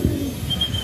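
Racing pigeons coo softly at their loft as they arrive, low throaty murmurs repeating over a steady background hum, close and moderately loud.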